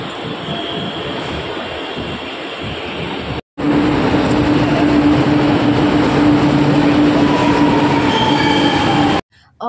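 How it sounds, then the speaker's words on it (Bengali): A metro train pulls into a station in Alandur, Chennai, as a loud, continuous rumble of wheels and carriages with a sustained high wheel squeal, broken by two brief cutouts. "অবশেষে আমাদের মেট্রো চলে এসেছে"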